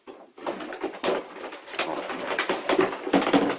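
A racing pigeon coos alongside other birds in a loft, giving close, repeated soft throaty calls over a busy background of rustling and fluttering.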